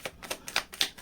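A deck of tarot cards is shuffled in four or five quick, crisp bursts of papery snapping, each separated by a brief pause. The sound is close and fairly quiet.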